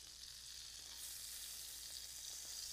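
Smash burger patties sizzle on a hot griddle with onions and tomatoes, a steady, fairly quiet frying hiss that swells slightly partway through, alone without talk.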